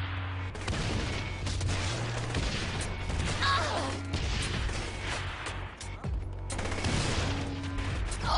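Grenade blasts and gunfire in Saints Row The Third, a dense, continuous fusillade of booms and crackling shots with crashes layered together, loud and sustained with no spoken voice.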